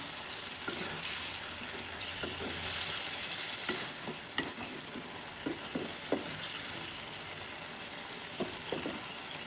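Shrimp frying with tomato in a pan, stirred by hand: a steady sizzle with scattered scraping and clinking strokes of the utensil against the pan, moderately close.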